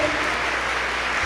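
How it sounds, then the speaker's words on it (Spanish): Audience applause during a Spanish-language Catholic preaching event, a dense, steady wash of clapping that stays loud and even throughout, without a break. "El aplauso"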